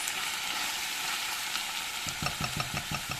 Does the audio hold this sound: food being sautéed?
yes